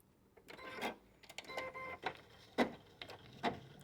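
An embroidery machine tacking fabric stretched in a hoop, giving a quiet series of irregular mechanical ticks and short stitching bursts, alone with no talking.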